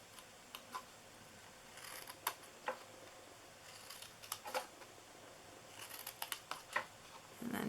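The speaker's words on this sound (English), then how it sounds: "And I'm just cutting into each of these." Scissors snip into paper for a handmade Valentine's Day treat box, a series of short, quiet cuts scattered across the clip with brief pauses between.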